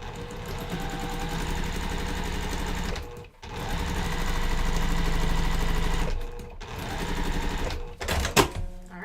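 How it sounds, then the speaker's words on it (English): A sewing machine runs steadily as quilt block pieces are stitched together, with three long continuous stretches broken by short pauses and a few louder clicks near the end, no talking. "And we're going to sew this together."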